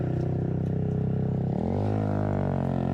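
A Kawasaki four-gear mini motorcycle with a modified loud exhaust idles with a steady, buzzing engine drone, then the pitch shifts and rises as the engine revs, close and loud throughout.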